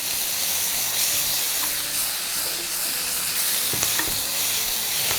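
Beef stir-fries with onion, ginger and garlic in a hot pan, giving a loud, continuous close hiss and sizzle with a few faint utensil clicks.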